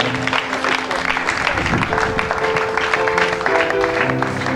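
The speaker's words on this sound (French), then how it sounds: "On acclame le Seigneur." A church congregation claps through a sermon service, giving a loud, dense run of clapping with voices calling out over it.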